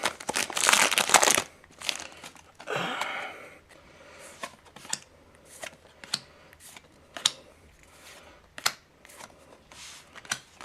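Lord of the Tachyon Galaxy trading card booster pack torn open, a loud burst of foil wrapper crinkling and ripping up front, then quieter card flicks and shuffling taps scattered throughout, close up.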